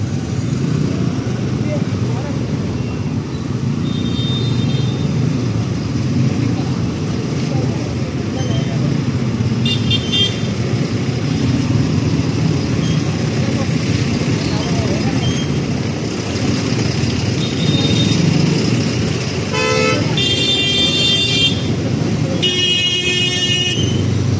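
Heavy road traffic in India roars in a dense, steady wash of engines and motorcycles, with several short car horn toots sounding near the end and someone speaking over the noise.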